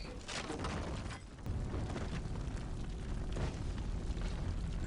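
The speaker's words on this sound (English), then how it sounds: "Even more explosions." Loud, dense explosions from the 2008 James Bond film Quantum of Solace, a continuous roar of booms and blasts with a brief dip before a renewed, sustained rumble, with no talk.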